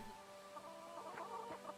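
A chicken in the farming video game Fae Farm gives a few soft, quick clucks after being petted, faint and clear over a quiet tonal game background.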